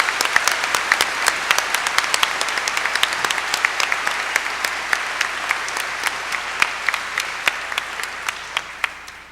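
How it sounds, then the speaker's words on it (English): Steady, full applause fills a high school graduation hall, hundreds of hands clapping in a dense continuous roar with a few sharper individual claps standing out, tapering slightly toward the end. "Join me in giving them a round of applause"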